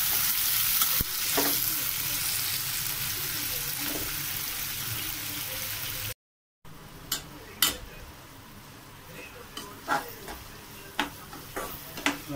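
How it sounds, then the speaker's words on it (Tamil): Chopped onions with a little fennel seed sizzle and crackle steadily in a hot pan, with occasional sharp clinks and scrapes of a utensil stirring, no voices. "வெங்காயத்தை கூட இப்போ நல்லா வதங்கிக்கலாம்"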